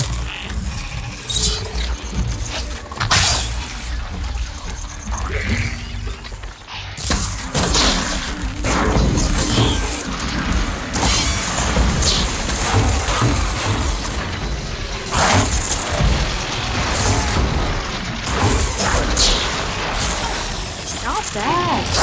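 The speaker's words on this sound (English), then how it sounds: "See those glowing crystals? Takes one hit to detonate." Glowing crystals detonating in Horizon Forbidden West, a string of heavy booms, thuds and crashes with whooshes between them, loud and close over game music and effects, with voices talking at times throughout.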